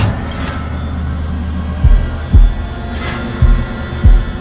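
In the horror video game Little Hope, a deep heartbeat thumps in doubled pulses, loud and close over a low droning hum, with no talking.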